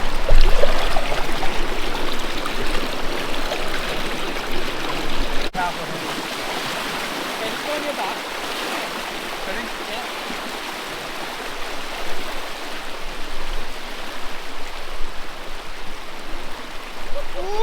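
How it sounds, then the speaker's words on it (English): A river in Wadi Al Hasa rushes past rocks, a steady broadband wash of flowing water that holds loud and constant throughout, with a brief dip in level partway through. "the river's just washing past him"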